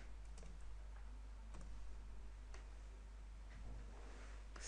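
Typing on a computer keyboard, with sparse, light key clicks spread irregularly over a steady low hum, no voices present.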